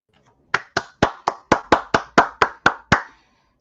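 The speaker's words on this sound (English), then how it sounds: "Sorry, that's just me clapping." A single person clapping hands, eleven sharp, evenly spaced claps in a quick steady rhythm, close and crisp with silence around them and no voices.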